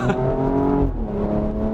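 A Porsche Cayenne Coupe SUV engine on a wet road, a steady droning hum that shifts pitch midway as the gearbox drops a gear under engine braking, heard close from inside the cabin.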